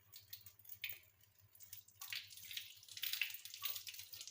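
A hand stained with fresh hair dye rinsed under running tap water: uneven splashing and dripping at a sink, with bursts of louder gushing as the hand moves through the stream, close and alone.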